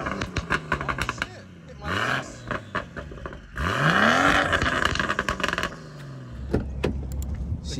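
A 550bhp BMW M140i sleeper revs hard in bursts, with rising and falling engine sweeps between quick clicks and rattles inside the car.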